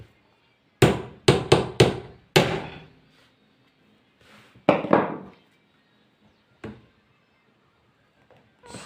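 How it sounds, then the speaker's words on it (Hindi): A hammer knocks on a stuck part of a sewing machine to loosen a tight nut. A close, loud burst of five sharp blows comes first, then a few more spaced strikes with quiet gaps between them. "अब इसको अगर पेचकस से नहीं खुलता है तो आपको ठोक कर भी खोलना पड़ सकता है।"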